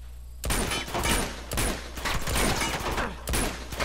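Bursts of gunfire in Uncharted 2, loud rattling volleys close by that come in waves with short gaps between them, with no voices.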